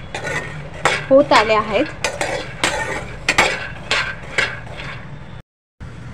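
Peanuts roast in a pan while being stirred, a metal spoon scraping and clinking against the pan in irregular strokes, close and clear; a voice briefly speaks.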